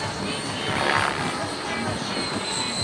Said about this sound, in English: Now this is an electric heli,